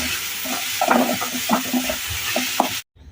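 Onions frying in oil with mustard seeds and cumin, a close, loud sizzle with stirring scrapes and small clinks throughout, cutting off abruptly near the end.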